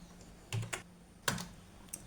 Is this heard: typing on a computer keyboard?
yes